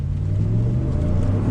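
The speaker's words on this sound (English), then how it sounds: "The sound of that catback exhaust, just enough V8 rumble." A supercharged Cadillac Escalade V8 with a catback exhaust pulls away from a dead stop, giving a steady, deep, close engine rumble with no talk.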